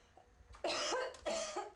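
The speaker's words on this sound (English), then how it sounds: "I started to cough really hard, and my throat was burning." Two harsh, forceful coughs in quick succession from bleach fumes, close and loud, with no talking.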